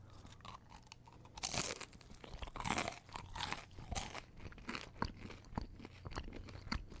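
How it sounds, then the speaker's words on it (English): Eating McDonald's Chicken McNuggets gives loud, close crunching bites followed by steady chewing, recorded binaurally in an intimate setting, with repeated crisp crunches over several seconds and no talking. "do you hear that crunch?"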